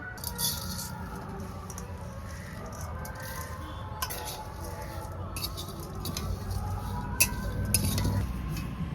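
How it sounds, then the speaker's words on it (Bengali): Flattened rice (chira) is fried and stirred in a hot wok, with steady scraping and sizzling and intermittent metallic clinks of a utensil against the pan, close up and continuous. "কড়াইও গরম হয়ে গেছে তো এই চিড়েটা আমি দুবারে ভেজে নেব"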